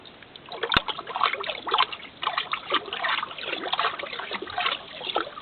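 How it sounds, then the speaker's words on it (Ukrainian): Water poured into a container to make a weak salt electrolyte, faint close trickling and splashing in uneven bursts after a sharp click at the start, with no voices. "Так, тут у мене водичка. Я додаю, роблю її слабеньким електролітом."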